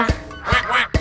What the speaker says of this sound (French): Le petit canard, canard,